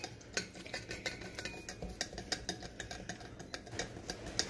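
Spoon stirring lassi in a cup or bowl, a steady run of quick light clinks and scrapes repeating for several seconds, close and fairly quiet, with no voices.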